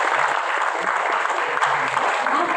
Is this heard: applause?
yes